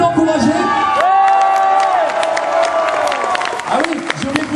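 An indoor crowd at a convention tournament cheers, whoops and applauds a contestant, with loud sustained voices and clapping throughout and shouted calls rising above the din.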